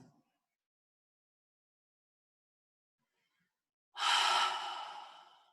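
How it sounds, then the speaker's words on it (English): A person breathing during a slow-flow yoga session: near-silence, then one long, audible breath out that starts strongly and fades gradually, close and alone. "Inhaling and exhaling."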